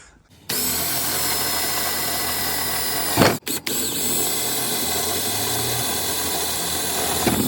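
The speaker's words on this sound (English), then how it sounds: "What size drill bit are you using" A power drill with a 3/16-inch bit runs continuously and loudly in a Vauxhall Vivaro van, briefly stopping and restarting midway, with its pitch shifting as the bit bores through material.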